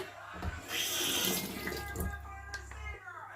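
Tap water runs into a sink for washing the face, a close splashing gush under brief murmurs from a woman, with a few knocks and handling noises as it flows.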